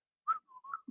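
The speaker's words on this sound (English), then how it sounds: "Can you whistle the Jeopardy theme" A short, clear whistled tune attempting the Jeopardy theme, a few thin, pitched notes with brief gaps, heard alone and close in a quiet room.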